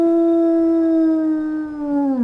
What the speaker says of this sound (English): let's go ahead and listen to her howls